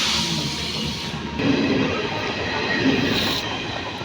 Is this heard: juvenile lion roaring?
no